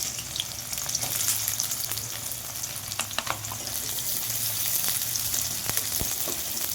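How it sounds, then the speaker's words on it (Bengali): Chopped onions and capsicum frying in leftover fish-frying oil in a wok, a steady close sizzle with occasional soft stirring scrapes, no voices. "ওই কড়াই যে তেলটা ছিল মাছ ভাজার তেলের মধ্যেই আমি ক্যাপসিকাম আর পেঁয়াজটা ভেজে নেব"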